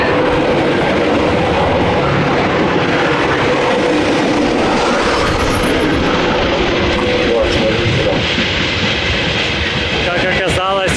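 Freight train in Kazakhstan thundering past at high speed on rails, a continuous loud roar with clickety-clack wheel rhythm throughout, very close, with a voice faintly under the noise.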